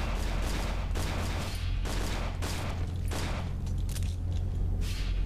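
An enemy fires a gun in the horror game Cry of Fear, producing several sharp shots in irregular bursts over a steady low drone and game ambience.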